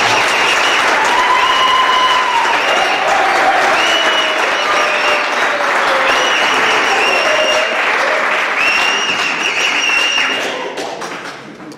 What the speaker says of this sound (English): Can you give yourself a round of applause, a very big round of applause?